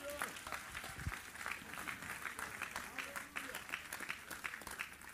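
Faint, distant clapping from a church congregation during a Sunday Bible study, a continuous scattered patter of many hands with a few louder claps up close.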